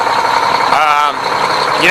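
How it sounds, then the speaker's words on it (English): A Mack Superliner truck's 550 hp all-mechanical diesel engine idling, a loud, steady, rough rumble close by throughout. "It's an all-mechanical diesel. It's a noisy engine."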